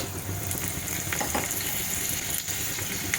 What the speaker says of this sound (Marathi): आपलं तेल चांगलं तापलेलं आहे यामध्ये घालायचं आहे एक टीस्पून मोहरी दोन टीस्पून उडदाची डाळ दोन लाल सुक्या मिरच्यांचे तुकडे